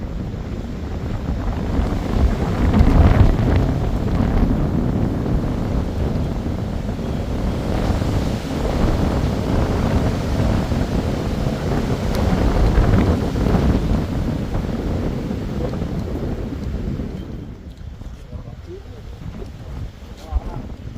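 Strong wind gusts roar across a mountaintop at Kolukkumalai, buffeting the microphone with loud, fluctuating rumbling that eases somewhat near the end, with a voice speaking through part of it.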